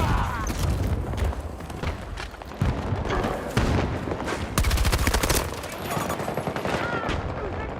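Video game shooter gunfire: dense rapid bursts of automatic fire and sharp shots, loud and close, continuous throughout with a few heavier booms.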